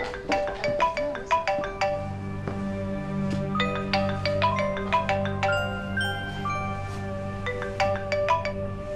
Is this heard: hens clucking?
no